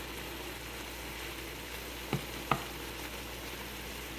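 Steak frying in a pan, a quiet, even sizzle throughout with a couple of brief clinks of a utensil near the middle.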